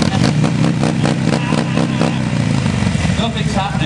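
Buell motorcycle engine revving during stunt practice, loud and close with a throbbing, pulsing rhythm throughout, someone talking over it.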